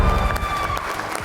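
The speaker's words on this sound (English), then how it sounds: "A round of applause for him." A quiz show studio audience claps and cheers as a contestant departs, a short burst of lively applause with crowd noise and a sustained musical tone underneath.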